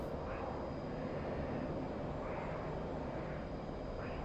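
F-18 jet engine roaring at full afterburner in the DCS flight combat game, a steady loud continuous rumble and roar with no speech over it.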